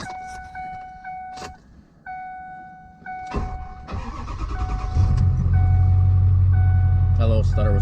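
A pickup truck is started in the cold. A chime beeps repeatedly, then the starter cranks with a brief stutter and the engine catches into a loud, steady idle rumble.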